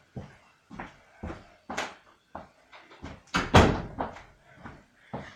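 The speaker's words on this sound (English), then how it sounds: "I left the freaking door open. Let's go close that." A door swings and is shut at home, giving a run of sharp knocks and thuds at uneven intervals, with one heavier bang near the middle, close by and without talk.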